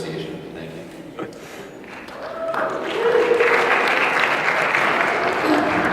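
A student audience at an undergraduate presidential debate claps for the candidates, starting quietly under a speaking voice and swelling into louder, sustained applause in the second half.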